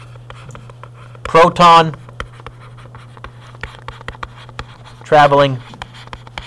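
Pen writing on paper in a physics lesson, a series of short scratchy strokes at close range, broken up by two spoken phrases.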